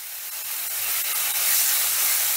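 Spice paste with onion, ginger and garlic stir-fried in a pan for a lime and fish dish, giving a steady close hiss that swells slightly louder as it cooks, with no talking.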